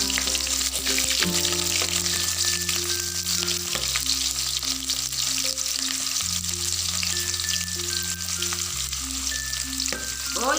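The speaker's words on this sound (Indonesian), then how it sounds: "Kita tumis bawang merahnya." Shallots sauté in a hot pan, a steady loud sizzle and crackle running throughout with a stove or fan hum underneath and occasional stirring scrapes; no one talks.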